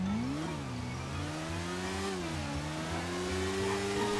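A motorbike engine accelerates in the GTA roleplay game, holding a steady, close revving drone whose pitch climbs early and then rises and falls slightly over a few seconds, with no talking.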